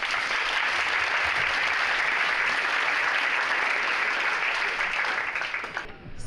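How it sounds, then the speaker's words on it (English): An audience at an annual empowerment gala applauds in a sustained, dense wash of clapping that holds steady before easing off near the end. "Can we give them a round of applause?"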